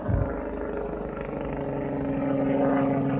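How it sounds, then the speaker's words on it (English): A military helicopter flies directly overhead, its rotor thumping steadily and loudly, a continuous pulsing drone that grows slightly stronger toward the end. "Now that helicopter is right over my head."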